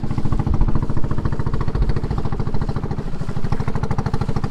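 A small rented boat's engine runs steadily on Tanguar Haor, a loud, continuous pulsing drone with regular rhythmic thumps and no voices over it.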